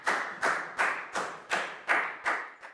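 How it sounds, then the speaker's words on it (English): Students in a classroom clap together in a steady unison rhythm, about eight loud, evenly spaced claps close by with no talking. "Give yourselves all a big round of applause."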